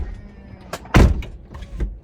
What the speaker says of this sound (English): and then close the passenger door